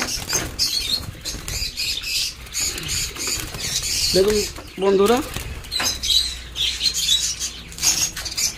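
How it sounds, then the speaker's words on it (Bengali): A male budgerigar flaps its wings in rapid bursts while being caught by hand, with a few short chirps mixed in, close and under ongoing talk. "এখান থেকে আমি মেল পাখিটা ধরে আপনাদের দেখাচ্ছি"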